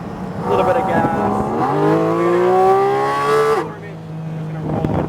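A Porsche GT4 RS accelerates on a race track, its engine note rising steadily in pitch for a few seconds before easing off, heard from inside the car with a voice talking over it.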